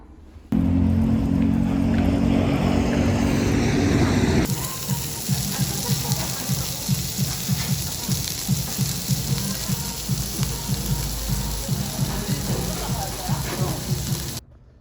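Steady rain falls in a dense, continuous hiss, with a rhythmic low thumping like footsteps underneath through the second half, close and fairly loud throughout.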